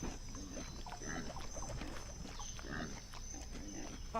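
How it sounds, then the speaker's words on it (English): Pig grunts and oinks from a LEGO Jurassic World video game, several short snorting bursts repeating over steady game ambience and a constant background hum. "I see you, pig. Come here, little piggy."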